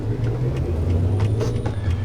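A 600-horsepower truck engine in American Truck Simulator, a steady low diesel rumble running throughout at a constant idle-like drone.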